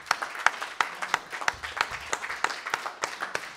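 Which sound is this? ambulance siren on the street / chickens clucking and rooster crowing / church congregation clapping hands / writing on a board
church congregation clapping hands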